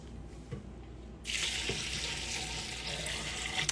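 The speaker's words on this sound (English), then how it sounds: "So I have my alkaline water that I want to pour on the moss." Alkaline water is poured onto sea moss in a steady, close hissing stream that starts abruptly after a few quiet handling clicks and keeps running to the end.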